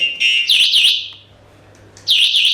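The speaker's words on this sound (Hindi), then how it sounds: "इस की से लॉकिंग करने के बाद एक तो सायरन कंटिन्यूस बज रहा है" An electric scooter's anti-theft alarm blares in loud, piercing electronic warbling bursts, two quick pulses, a short lull, then two more, sounding after the scooter is locked with the key.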